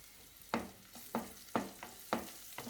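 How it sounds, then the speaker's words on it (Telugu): Carrots fry with ginger-garlic paste in a pan, stirred in periodic scraping strokes about every half second over a steady low sizzle, close and moderately loud with no voices. "ఇప్పుడు క్యారెట్ వేసుకుందాం."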